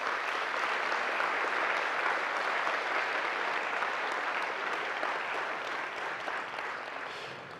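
An audience at a Toastmasters gathering claps for three new division governors, a broad, sustained round of applause that holds steady and then fades slightly toward the end.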